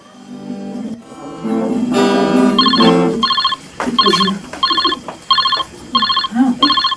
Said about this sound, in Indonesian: mampu deh nelpon wae gitu ke si Kevin